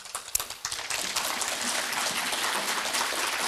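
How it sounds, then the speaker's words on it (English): Audience at a conference breaking into a round of applause, a few scattered claps first that quickly swell into sustained, even clapping from a large room. "That was not worth a round of applause, but I will nevertheless gratefully accept it."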